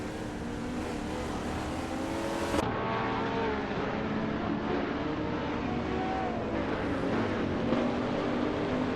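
Race cars in the Gran Turismo Sport video game, a continuous engine drone with shifting pitch as the cars run close together in a race, steady and fairly loud with no break.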